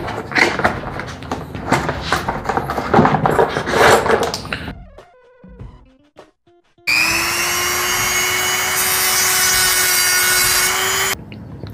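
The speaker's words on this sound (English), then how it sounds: "Let's make the cuts and the drill with the Dremel tool" A rough grinding cut gives way after a pause to a loud, steady high-pitched whine of a spinning Dremel rotary tool running for several seconds during a headlight projector retrofit.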